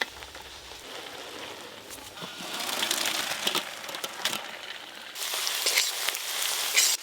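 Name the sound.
chopped onions frying in oil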